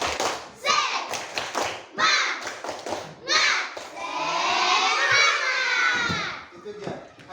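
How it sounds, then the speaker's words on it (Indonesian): A fourth-grade class of children in a school classroom does a rhythmic spirit clap, sharp bursts of hand claps in quick patterns, followed by loud shouting and chanting from the group. "yuk tepuk semangat"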